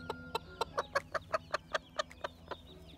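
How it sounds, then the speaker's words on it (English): A hen in a garden parsley patch, trying to lay an egg, gives a rapid series of about a dozen sharp, evenly spaced clucks, fairly close and clear against a quiet background. "we could hear some clucking"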